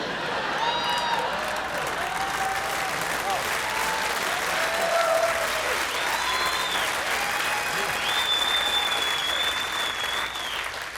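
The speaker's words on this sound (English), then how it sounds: "laugh and clap all you want" At a stand-up comedy show, an audience laughs and applauds in sustained, loud applause mixed with cheers and laughter, with some voices audible in the crowd noise.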